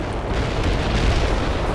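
Artillery strike explosions from the real-time strategy game World in Conflict rumble as one continuous heavy, booming roar, loud and dense throughout without separate distinct blasts and with no voices.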